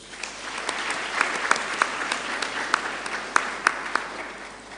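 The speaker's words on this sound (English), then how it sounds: "Let's clap for ourselves." An audience at an inaugural university lecture applauds, a steady mass of clapping with scattered louder, sharper claps standing out near and clear throughout.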